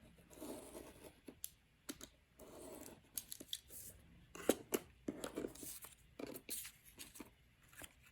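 Scissors snip through paper to cut out a small stencil, a quick series of close, crisp cuts and rustles at an irregular rhythm, fairly quiet and with no voices over them.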